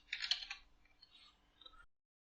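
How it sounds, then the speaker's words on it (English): A brief burst of quick clicking keystrokes on a computer keyboard, close and fairly soft, tapering off within about two seconds. "So let's start typing. I'm gonna type Databricks."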